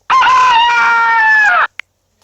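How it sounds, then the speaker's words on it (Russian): A rooster gives a single loud, close crow lasting about a second and a half, followed by a brief faint click. "Петух."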